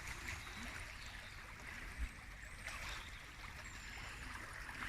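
A river running high and swollen after heavy rain, heard as a steady, fairly quiet broadband rush of flowing water with a brief low thump near the middle.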